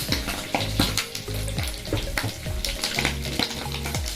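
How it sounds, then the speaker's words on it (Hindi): Kaleji (goat liver) hits hot oil in a kadhai and sizzles loudly, with repeated scraping stirs and clinks of a spoon against the pan in an irregular rhythm. "तेल गरम हो चुका है, कलेजी डाल देंगे।"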